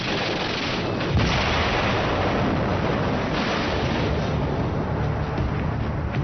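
A German explosive charge blasts a Belgian fort in World War II, producing a dense, continuous roar of explosions and gunfire with heavy low rumble throughout and no voices.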